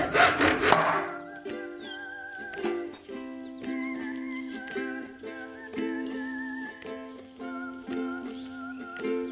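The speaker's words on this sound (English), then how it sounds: "Cut the pipe along the edge of the tape." A hand saw cuts through a pipe along a strip of tape in a steady series of short back-and-forth rasping strokes, close and clear, after a louder scrape at the start.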